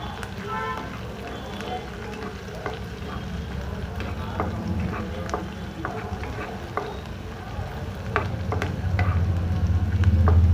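Chopped ginger fries lightly in a pan for chilli paneer, giving a steady sizzle with scattered crackles and the occasional scrape of stirring, and a voice talks faintly at times.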